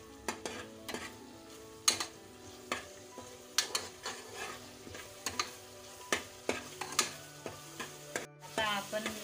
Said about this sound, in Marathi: तेजपत्ता, मसाला मस्त परतून घेऊ।